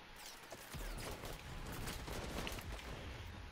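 Shotgun fire in the online shooter XDefiant, a dense run of blasts and mechanical clatter filling the mix at steady loudness, with no talking.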